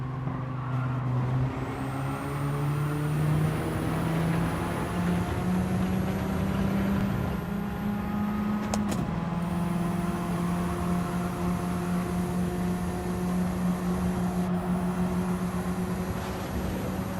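Race car engine in Gran Turismo 7 holds a steady, sustained drone throughout, with a brief shift in pitch midway and a continuous loud tone from start to finish.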